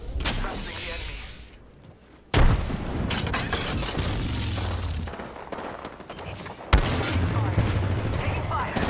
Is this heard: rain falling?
no